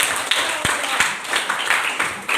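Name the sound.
audience clapping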